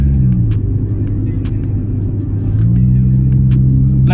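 A 1994 Honda Integra ZXi engine revs while driving, a loud continuous mid-pitched drone that shifts pitch as the revs rise and fall, heard close with faint clicks and no talk.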